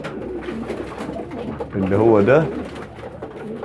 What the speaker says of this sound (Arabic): ممكن حد يفتكر ان هو ذكر الحمام بيزوم